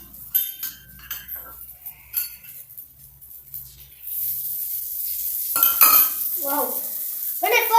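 Dosa batter spread on a hot pan starts a loud, continuous crackling sizzle that swells halfway through. Metallic clinks and scraping of a utensil on the pan come before it, and brief sounds that may be a voice break in near the end.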